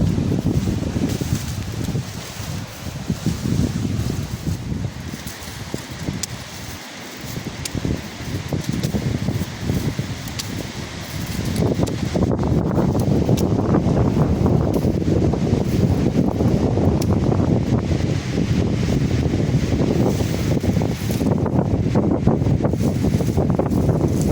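Strong dry wind sweeps across an open farm field, a steady roaring rush with rustling and microphone buffeting that grows louder partway through and continues without talk.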